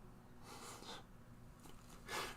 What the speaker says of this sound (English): with a snoring cat beside me